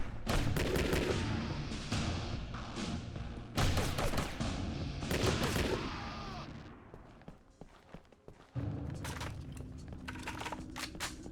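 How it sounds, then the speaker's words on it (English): Turrets trading fire in the video game Shadow Harvest: Phantom Ops, dense bursts of loud rapid gunfire coming in waves with a short lull before another volley. "Turret versus turret battle."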